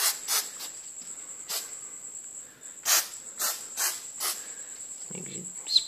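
Aerosol can of Stoner Trim Shine spraying onto plastic car trim in several short hissing bursts, each about a third to half a second long, with brief pauses between and a faint shake near the end.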